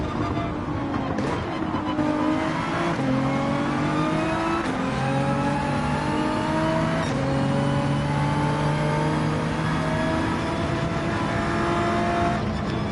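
Porsche 911 engine at full throttle in Gran Turismo 7 on the Nürburgring Nordschleife, a steady loud racing-game engine roar with rising and shifting pitch through gear changes and a faint tire squeal, no voices.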